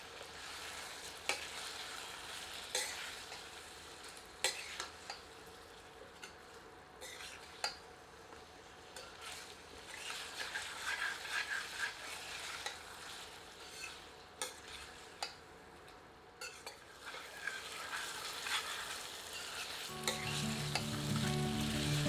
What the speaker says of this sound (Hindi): अब इसे ढककर 5 से 6 मिनट धीमी आंच पर पकाते हैं, पर बीच बीच में करछी चलाते रहते हैं